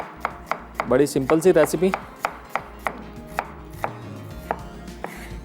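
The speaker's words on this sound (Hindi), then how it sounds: "जब तक प्याज में स्लाइस कर रहा हूँ" A knife chops through onion on a chopping board in quick, close taps, with a fast rattling burst in the middle and then steady single strikes while someone speaks briefly over the cutting.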